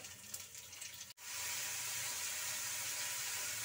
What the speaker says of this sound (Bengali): আলু ভেজে নিব এখন।